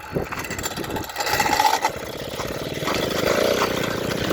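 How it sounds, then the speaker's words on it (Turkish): A Peugeot 103 moped engine runs nearby with a rough, uneven mechanical rattle from the clutch, growing steadier and slightly louder toward the end, with no speech. "İşte o ses debrajın debrajdan geliyor. Bu da yolda giderken daha fazla ses yapmasını sağlıyor."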